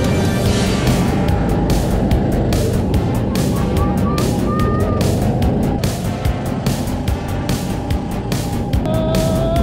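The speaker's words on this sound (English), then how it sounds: "This is Rosalie's first time go-karting." Small go-karts buzz around an indoor family attraction track in Wisconsin Dells, a steady loud engine drone with passing revs, scattered honks and bright chirpy squeals over it, no talk.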